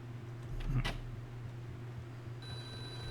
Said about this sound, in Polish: Mój telefon dzwoni